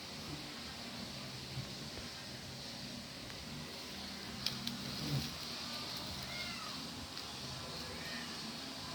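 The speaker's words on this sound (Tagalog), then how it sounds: "Yung pusa." A cat meows a few times, faint and somewhat distant, against a steady hiss of outdoor background noise.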